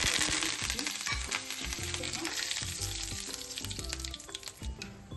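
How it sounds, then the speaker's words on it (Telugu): Cumin, mustard seeds and curry leaves sizzle and crackle steadily in hot oil for a tempering, a close, continuous frying hiss with sharp popping seeds and occasional stirring clinks, no voices. "పోపు ఫ్రై అయిందండి"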